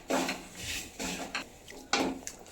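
A ladle works flour dough in a pot, ghee mixed in, in a village kitchen: three broad scraping, knocking bursts of metal against the pot, each about half a second, with quieter rubbing between them, close and fairly loud, no talk.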